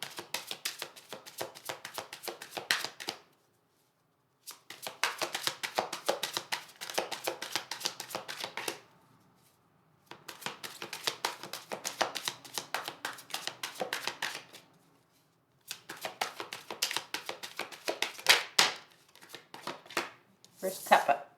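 Tarot cards shuffled by hand in four long bursts of rapid riffling and flicking, separated by short silent pauses, close and fairly quiet.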